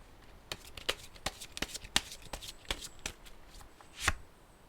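Tarot cards being shuffled alone in a quiet room, a run of crisp riffling slaps and flicks at an uneven rhythm, close and fairly soft, with no talking.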